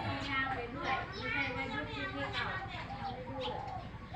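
Doves give rhythmic, repeated coos outdoors in a light breeze, while someone talks steadily over the calls.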